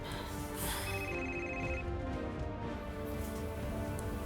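A telephone rings with an incoming call, a steady repeating electronic ring heard clearly over a dense background of music and ambient noise, with no talk.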